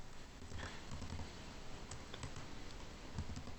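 Keys on a computer keyboard tap out a command in a quiet room, a handful of soft, irregular clicks close by, with no voices.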